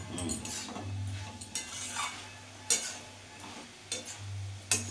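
Shredded cabbage dry-fried without water for a vegetarian ghonto, with a soft sizzle under scattered scrapes and clinks of a spoon stirring against the pan.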